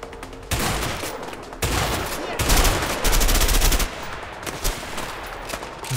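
Bursts of automatic gunfire in the video game A Way Out, several loud rapid volleys with short pauses between them, heavy and close.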